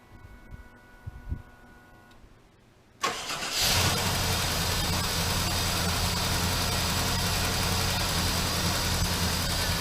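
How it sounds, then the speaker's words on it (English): A Jeep Wagoneer engine fitted with Holley Sniper fuel injection fires up after a quiet moment and settles into a loud, steady idle that runs a little rich, droning evenly close by with no talk. "I think it runs really well. It idles well."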